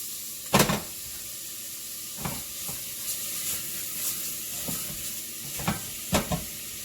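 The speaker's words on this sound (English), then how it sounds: "Going to move the fat around. Move the bacon around." Bacon frying in its rendered fat for a smoked turkey and turnip greens soup, a steady close sizzle and hiss broken by a few sharp scrapes and knocks as the pieces are stirred around the pan.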